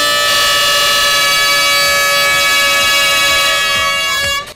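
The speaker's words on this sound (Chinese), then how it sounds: "3、2、1，鸣笛。" A loud, sustained siren-like horn blares to start the national road cycling championship and national team selection at Taitung Forest Park, holding steady for about four seconds before cutting off.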